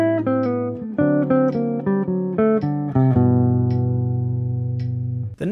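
A jazz 2-5-1 phrase, a bebop line of quick connected single notes over a low sustained tone, resolving into a long ringing final chord that fades; close, clean and unaccompanied by voices.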